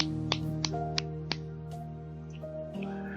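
A few sharp, bright clap sound effects pop at a steady pace over sustained electronic music tones in the visual novel Higurashi: Minagoroshi.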